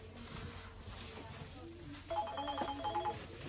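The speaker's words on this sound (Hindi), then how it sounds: "मेरा फोन आ रहा भैया का" A mobile phone ringtone chimes in a repeating melodic pattern amid background chatter and room noise, starting partway through.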